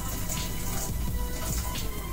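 Water poured steadily into a pot during home cooking of a mussel soup, a soft continuous splashing stream at moderate level with no talk.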